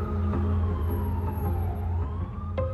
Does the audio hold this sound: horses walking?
no